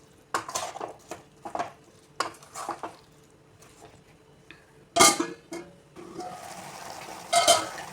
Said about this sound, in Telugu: ఒకసారి మొత్తం కలిపేసుకొని ఈ టమాటాలు కొంచెం ఉడికే వరకు మూత పెట్టేసుకుందాం